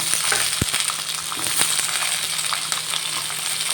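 Halved beans and eggplant frying in a pan, a loud, dense sizzle running throughout with a few sharp knocks and scrapes of stirring up close.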